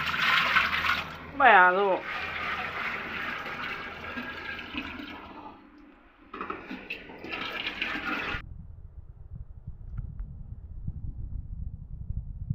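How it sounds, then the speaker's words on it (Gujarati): Cold water pours and splashes steadily into a pot, running for several seconds with a brief pause; someone speaks briefly near the start. "હવે આમાં ટાઢું પાણી પાછું રેડવાનું"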